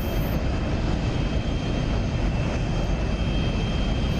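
An SR-71 jet in the DCS flight simulator gives a continuous, loud, broadband engine roar that stays steady throughout, with no speech.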